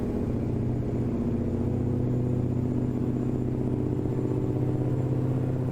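Mack Anthem truck fitted with a vintage Mack EM9 engine pulling up a hill at full power in American Truck Simulator: a loud, steady, deep engine drone with continuous low rumble and no shifting, heard alone.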